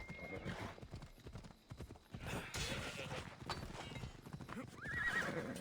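Horse hooves clip-clop at a gallop in the Assassin's Creed Odyssey video game, loud and steady, with a high whinny near the end and a brief shout over the hoofbeats.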